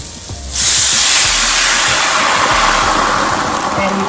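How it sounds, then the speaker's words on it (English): A loud, steady sizzle erupts as white wine hits a hot pan, then continues as an even hissing boil throughout. "See that sizzle."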